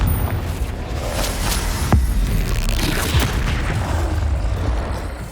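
Blasting spell explosions in Hogwarts Legacy, a loud rumbling boom with a sharp crack near the middle, followed by sustained roaring combat noise.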